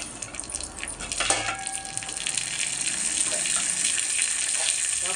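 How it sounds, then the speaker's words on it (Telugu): Curry leaves drop into hot tempering oil already holding dried red chillies, cumin, mustard seeds and a little fenugreek, for a dal dish with amaranth greens; a steady, fairly loud hissing sizzle runs throughout with a brief crackling burst early on. "అలాగే కరివేపాకు కూడా వేస్తున్నాను."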